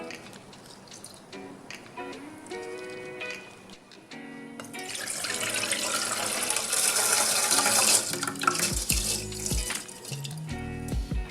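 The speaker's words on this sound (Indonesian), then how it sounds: "kita cuci 2 cup beras dengan air" Rice grains, two cups, being rinsed under running tap water for a Japanese breakfast, a steady splashing and trickling stream that grows louder and fuller midway, with soft clinks and drips near the end; no talking.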